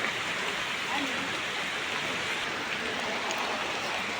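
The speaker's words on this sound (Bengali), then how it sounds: "কালকে সারাদিন সারা রাত বৃষ্টি, এখন পর্যন্ত নামতেছে।" Steady rain falling outdoors after a full day and night of downpour, a continuous broadband hiss without a break, moderately loud and even throughout.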